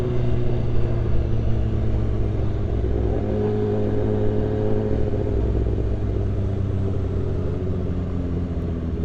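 A Mercedes E63 accelerates on a UK road, its engine rumbling loud and continuous as the pitch climbs midway, heard from close by over steady road and wind noise.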